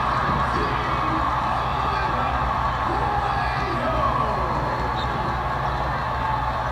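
A basketball arena crowd at Arizona during a women's game against Stanford, a steady roar of many voices with murmuring and cheering, constant and loud throughout.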